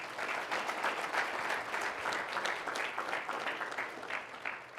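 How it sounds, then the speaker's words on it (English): Crowd at a Texas A&M University-Kingsville signing event applauding the whole family of the signing athlete, Jacob Cavazos, a continuous, even patter of many hands clapping at moderate loudness for several seconds. "So a big round of applause for the whole family."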